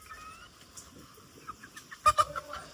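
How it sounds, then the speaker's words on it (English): Chickens cluck in short, scattered bursts, growing louder near the end, over quiet background noise. "Those are not your chickens. Those are my chickens."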